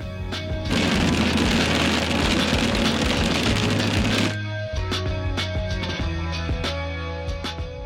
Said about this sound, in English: It's a big thunderstorm rolling in behind me